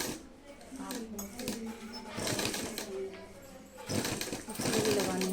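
A sewing machine runs in a tailoring boutique, stitching the leg of a garment in rattling bursts that rise and fall, while someone talks over it.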